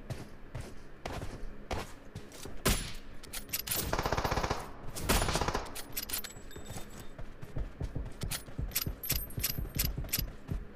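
Gunfire in the mobile battle-royale game PUBG Mobile: repeated sharp shots and short bursts crackle throughout, with a denser, louder volley in the middle, over a busy mechanical rattle of in-game sounds.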